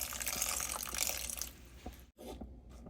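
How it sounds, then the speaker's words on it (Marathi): Water pours with a splashing rush into a pan of sprouted moong for a moment, then stops, leaving a few faint clinks and quiet kitchen sounds. "यात आपण थोडंसं पाणी घालूया"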